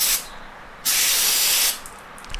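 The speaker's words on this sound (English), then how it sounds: "I'm just using carburetor cleaner." Carburetor cleaner sprays from an aerosol can onto a Honda Civic A4RA automatic transaxle valve body, heard as two loud, close hissing bursts, a short one and then a longer one, separated by a pause.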